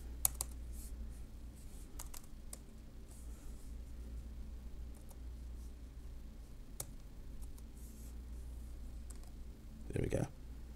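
Computer keyboard keys typed while entering a username during an Ubuntu server setup: scattered soft clicks and taps under a low steady hum, faint and close, with a short louder burst near the end.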